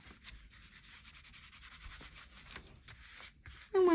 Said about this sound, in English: when you're rubbing it down, just be careful that you don't rip it because it is pretty thin